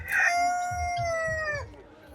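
A fully grown rooster crows once, a loud, close, drawn-out call that tails off, with low background noise underneath.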